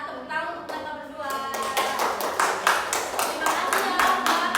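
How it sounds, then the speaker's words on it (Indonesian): A small class applauds two students during a counselling practice session, with scattered claps building into a steady patter close by, and a voice speaking briefly at the start. "Tepuk tangan untuk mereka berdua."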